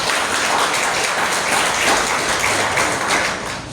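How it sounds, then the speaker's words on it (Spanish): A church congregation claps during a sermon, a dense, fairly loud wash of applause throughout with no voice standing out. "Denle un nuevo aplauso a Él."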